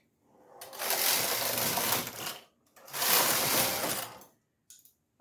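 A knitting machine carriage sweeps across the needle bed twice while knitting cables, each pass a loud, rushing mechanical clatter lasting about two seconds, followed by a brief faint rattle.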